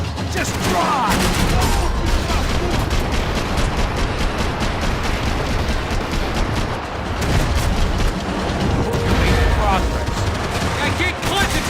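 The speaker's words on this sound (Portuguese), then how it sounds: "I can't concentrate with bullets whizzing past my head!" Dense gunfire rattles almost nonstop during a shootout in the video game Max Payne 3, with loud bursts of rapid shots, booms and bullet impacts piling together at close range. Shouted voices come through here and there.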